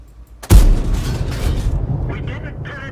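A heavy tank gun fires in World of Tanks, a single loud booming blast that cuts in sharply and then rolls into a long rumbling tail of reverberation. The ISU-152 is firing at an IS-3.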